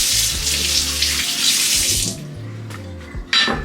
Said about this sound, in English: Put a couple of carrots, give them a wash.